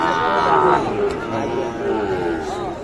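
Cattle low at a busy village cattle market where Sahiwal bulls and calves are sold, with long, drawn-out moos mixed with nearby voices and crowd chatter.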